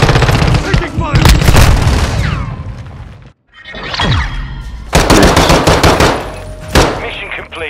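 Rapid machine-gun fire and booming gunshots pour out of a Modern Warfare II Domination match, loud and close, with dense bursts broken by a brief silent gap and clattering impacts.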